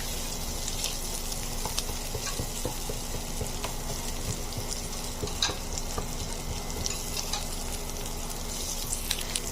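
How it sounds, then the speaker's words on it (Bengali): Onions frying in a pan for a butter garlic fish fry, a steady sizzle with faint stirring and scraping throughout, fairly close and continuous with no voices. "পেঁয়াজগুলো আমি জাস্ট অল্প একটু 1 মিনিট মতো ভেজে নিচ্ছি"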